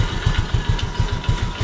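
A motorcycle idling with a newly fitted exhaust pipe, a close, loud, steady low throb with regular pulsing beats and an even rhythm and no talk over it.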